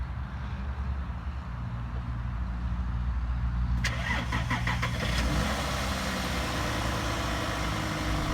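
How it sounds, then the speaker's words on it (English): A 2007 Audi Q7 3.0 TDI six-cylinder diesel engine cranks and catches partway through, then settles into a steady, smooth idle over a constant low rumble. "how smooth sounding the 6-cylinder engine is compared to my 4-cylinder diesel"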